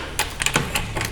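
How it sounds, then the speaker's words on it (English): Sharp metallic clicks and taps while the lockup solenoid is unbolted from a 4L60 transmission during teardown, several separate ratchet or bolt sounds, close and fairly loud, with no talking. "The lockup solenoid is actually bolted into the transmission,"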